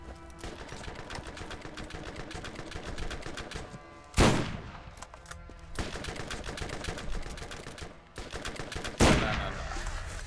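Repeated rapid gunfire from the Borderlands video game, a steady run of shots with two louder, sharper blasts standing out, heard alone without talk.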